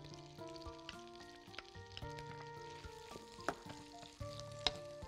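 Garlic frying in a pan, a soft crackling sizzle running quietly throughout with occasional sharper pops, no talking.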